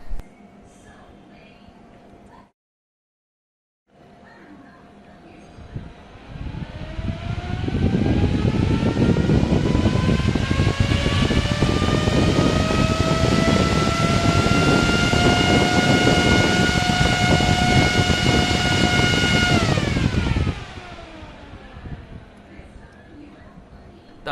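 A 120mm PC CPU cooling fan spins up gradually, its whirring hum rising steadily in pitch and loudness to a strong, close, steady whine that holds for several seconds before cutting back down.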